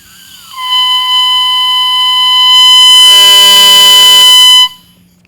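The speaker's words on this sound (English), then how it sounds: "first we're going to crow the reed, which means all the way into the thread" Oboe reed crowed alone, a bright, buzzy, multi-toned squawk that starts as a single note when blown softly, then grows louder and richer with added higher tones before cutting off abruptly.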